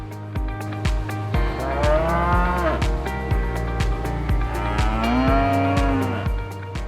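Cattle moo in long, drawn-out calls over a steady thumping musical beat, with two clear moos rising and falling.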